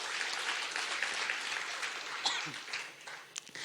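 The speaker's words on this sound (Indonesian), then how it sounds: "Tepuk tangan sekali lagi bagi Allah kita" Congregation applauding during a church sermon, a short burst of dense clapping from many people, moderately faint and tapering toward the end.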